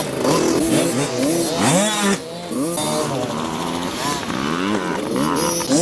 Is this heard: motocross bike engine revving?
yes